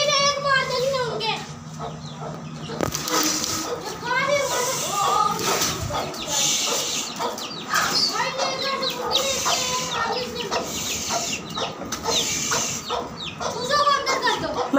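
Hens clucking and calling in repeated bursts close by, with children talking and other voices mixed in over a yard where the birds are kept alongside peacock chicks, which the hens peck at.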